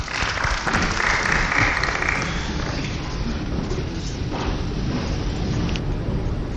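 Applause from an audience at an African Union chairmanship debate for the candidates, a dense, loud round of clapping that swells early and then settles into a steady wash of hands.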